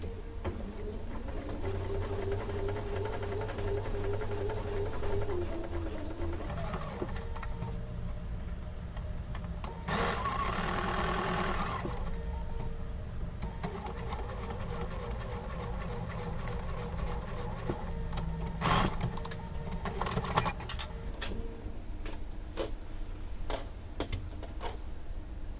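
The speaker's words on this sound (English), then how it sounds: "I'm sewing on my Bernina 790 plus" Bernina 790 plus sewing machine with a 37D foot stitching quilt seams at a short stitch length, close rapid mechanical whirring in several bursts separated by pauses and small clicks.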